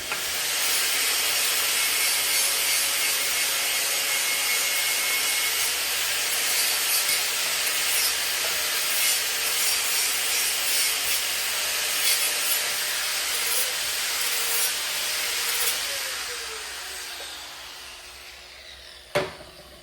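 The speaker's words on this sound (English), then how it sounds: "I need to mark all of this stuff so I can take all the mill scale off" Mill scale being ground or abraded off steel parts for a firewood bundling stand, a continuous loud gritty hiss with no voices that winds down near the end, followed by a short clank.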